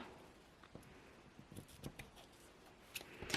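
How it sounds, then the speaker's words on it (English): Scissors trim ribbon while a baby card is being made, giving a few faint, short snipping clicks close by in a quiet room. "So I'm just going to trim the ribbon a little bit."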